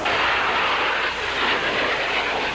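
Military jets roar past at a Navy and Marine Corps air show, the 38th Annual Navy Relief Benefit Air Show in 1988, a loud continuous broadband engine rush that swells and fades slightly without letup.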